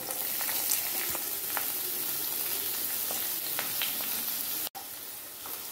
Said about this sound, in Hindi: ये प्याज आपको फ्राई करके लेना है।